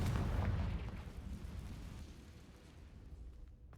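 A Confringo fire spell bursting in the video game Hogwarts Legacy, a deep, loud booming blast at the start that rumbles and fades away over a few seconds.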